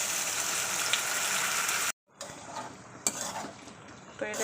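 Potatoes are stirred with spice paste in a pan, first as a steady scraping sizzle, then after a brief break as scattered metallic clinks and scrapes of a spoon against the pan.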